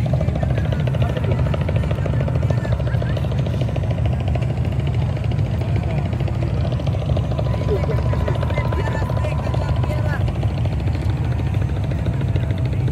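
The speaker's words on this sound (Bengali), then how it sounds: "এই যে এখানে ট্রলার যাইতেছে," A trawler boat's engine drones steadily and loudly on the Padma river at an old ferry ghat, with a continuous low rumble and chugging throughout and faint voices beneath it.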